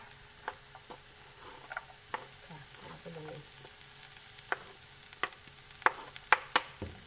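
Carrots, beans and cucumber stir-frying in a pan, giving a soft steady sizzle close by, with scattered clinks and scrapes of a utensil against the pan that grow sharper toward the end.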